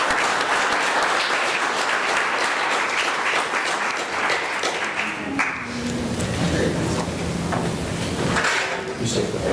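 Church congregation applauding the teens during a Sunday service, loud dense clapping for about five seconds that thins into scattered claps, shuffling and murmured voices in the room.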